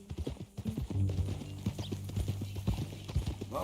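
Horse hooves clip-clop steadily on the ground in Red Dead Redemption 2, a close, brisk rhythmic trotting beat that runs throughout, with a low snort and faint background ambience.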